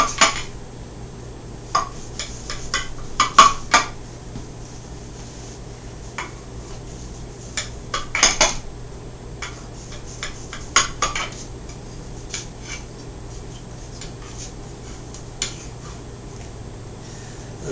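A knife scraping and clinking against a pan while cutting chorizo and habanero cornbread, with a few sharp metallic taps among quieter scrapes, close and unaccompanied by speech.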